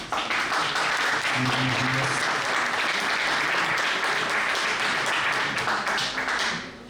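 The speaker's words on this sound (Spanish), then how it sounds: "Un fuerte aplauso, por favor." Sustained, dense applause from an audience at a startup panel in Bogotá welcoming a CEO, loud and even throughout before trailing off at the very end, with faint voices beneath.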